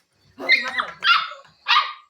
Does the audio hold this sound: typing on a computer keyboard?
no